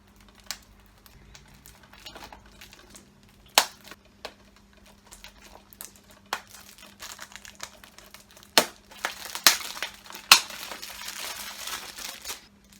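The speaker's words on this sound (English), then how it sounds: "let's get the plastic off" Plastic wrap crinkles and tears as it is peeled off a Blu-ray case, scattered sharp crackles and snaps over a quiet background, growing busier toward the end.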